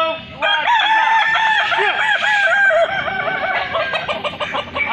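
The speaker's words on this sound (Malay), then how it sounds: "kita laksanakan acara lomba ayam berkokok berlenggak" Several roosters crow in overlapping, drawn-out calls at a balenggek crowing chicken contest in Kota Solok, loud and close, with the crowing continuing steadily throughout.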